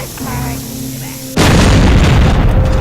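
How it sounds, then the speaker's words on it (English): In the video game Overlord, bombs blast open a door: after quieter game tones and a voice, a sudden loud boom erupts and rolls on as a dense, roaring explosion that fills the rest of the moment. "what we need to do now is blow open that door that's over there using all of these bombs"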